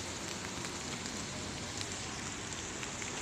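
Steady rain pours down, a dense hiss of drops hitting surfaces nearby, constant and unbroken with no talking.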